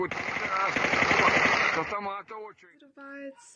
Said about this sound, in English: Moments later, another, and gunfire as police officers try to bring it down